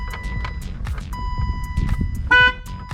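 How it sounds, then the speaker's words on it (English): A BMW E30 M3's horn sounds once in a short, loud, steady blast near the end, following a stretch of low rumbling handling noise. "I guess we should see if the horn works real quick."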